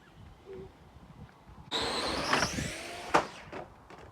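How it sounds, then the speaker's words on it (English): A child's toy RC car bursts into motion with an abrupt electric motor whine that surges and revs, close by, with no talking. "And this is my RC car."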